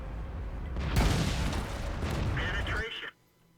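A tank shell hits the player's Tiger P heavy tank in World of Tanks: a loud, heavy boom and crashing clatter that rings on for a couple of seconds, then cuts off to near silence.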